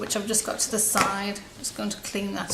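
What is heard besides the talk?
No distinct noise like a dog, phone or traffic.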